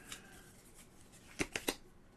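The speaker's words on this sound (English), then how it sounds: "We're just going to shuffle this up again." A deck of cards being shuffled during a tabletop game session, a faint riffle followed by three quick, close snaps in a quiet room.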